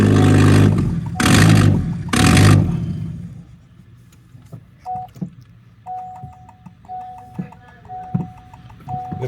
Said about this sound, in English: Sounds like we have an exhaust leak.